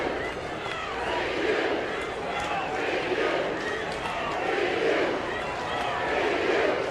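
Large crowd of Vanderbilt Commodore fans at the Hoover Met during an SEC Tournament championship baseball game against LSU, a steady, moderately distant murmur of crowd noise swelling slightly at times beneath a commentator's voice.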